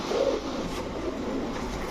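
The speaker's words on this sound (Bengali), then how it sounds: "এখন দেখাবো হোয়াইট কালারের এক জোড়া গোল্লা কবুতর" Pigeons at a seller's loft coo softly and steadily through the whole moment, a low, continuous murmur of several birds close by.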